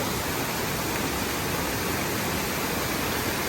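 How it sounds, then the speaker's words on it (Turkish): A small waterfall on the Dim Stream, a mountain stream coming down from the Taurus Mountains near Alanya, Turkey, makes a steady, close, full rush of falling water with no pauses and no voices. "Hemen burada küçük bir şelale oluşmuş arkadaşlar."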